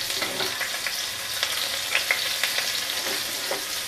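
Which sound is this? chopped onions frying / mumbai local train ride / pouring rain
chopped onions frying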